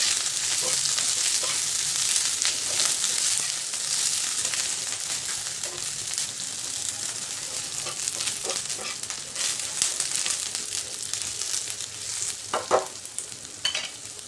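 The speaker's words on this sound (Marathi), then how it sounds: "कांदा भाजत आला त्यामध्ये आपल्याला आलं घालायचं आहे" Onion and ginger frying together in a pan for a spicy village-style rassa, a loud, close, continuous sizzle with frequent stirring clinks and scrapes and no speech.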